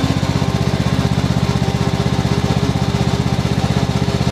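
Riding lawn mower engine running with one rear wheel lifted off the ground, a loud, close, steady rhythmic putter that cuts off abruptly at the end.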